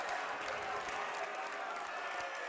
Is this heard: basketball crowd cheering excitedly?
yes